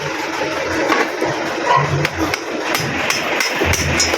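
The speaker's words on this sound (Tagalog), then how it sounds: "So pukpukin natin dito." Sharp hammer blows knock out an electric fan bushing, struck through a screwdriver in a loose, uneven series of close metallic taps.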